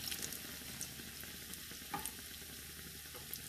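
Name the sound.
chicken bread pakora frying in pan after being flipped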